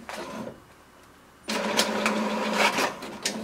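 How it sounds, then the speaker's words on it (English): An HP Deskjet 2755 all-in-one printer runs a print job: a quiet stretch of faint mechanism, then a sudden rise into steady, close whirring and clattering of the carriage and paper feed that carries on to the end. "It will send a command to the printer to do the printing."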